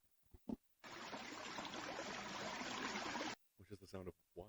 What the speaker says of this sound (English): Which is the sound of water.